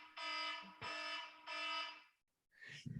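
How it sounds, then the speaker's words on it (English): An alarm going off indoors: three loud, harsh buzzing beeps of about half a second each in a steady rhythm, followed by a brief quieter sound. "I've got my alarm over here."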